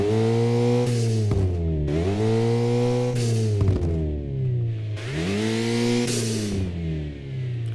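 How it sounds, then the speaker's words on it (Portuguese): Video game car engine revving up and down in repeated surges with sharp tonal rises and falls, punctuated by crackling exhaust backfire pops when the throttle drops; loud and close, with no talk. "E aí quando eu solto o acelerador, tem uma chance aleatória de tocar o estouro de escape."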